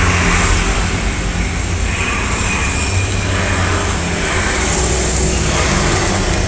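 A Mercedes E260 with its standard exhaust runs loud and close, a steady, dense engine drone that holds without pause and shows no clear rises or drops in revs.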